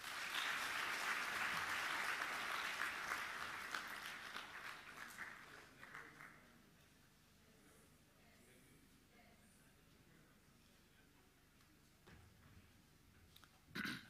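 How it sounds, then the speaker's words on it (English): Applause for the Governor of Nairobi City County at the Nairobi Innovation Tech Week, a loud, dense crowd clapping that gradually thins and fades after about six seconds into quiet room tone. "Once again, a round of applause for His Excellency Johnson Sakaja"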